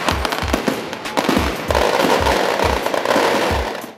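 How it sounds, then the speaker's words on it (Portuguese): Fireworks go off at a Christmas decoration inauguration, a rapid string of loud, close bangs and crackles in an uneven rhythm with a sustained fizzing roar behind them. "A inauguração, que também teve um show à parte com fogos"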